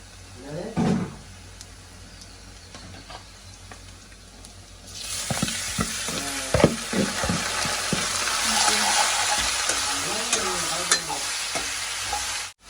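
Squid hits a hot pan and the quiet background jumps to a loud, steady sizzle partway through, with scraping stirs and clatter before and during the frying.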